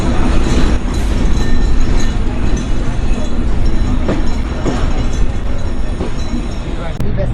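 A passenger train pulls out of Chuadanga railway station in Bangladesh, its steady loud rumble and rattle of carriages filling the scene with faint clicking of wheels, heard from on board.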